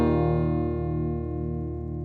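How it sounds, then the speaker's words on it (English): Clean electric guitar chord played through Guitar Rig software, a single sustained strum ringing evenly and slowly fading, close and alone with no talk. "Here's just a clean guitar tone."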